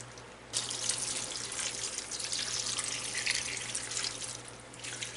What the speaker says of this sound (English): then you're going to add water so it comes up just to cover up